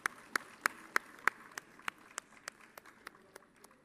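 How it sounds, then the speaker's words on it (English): Scattered audience clapping at an awards ceremony, a dozen or so sharp individual claps spaced evenly at first, then thinning and fading toward the end. "A big round of appreciation and applaud for this team."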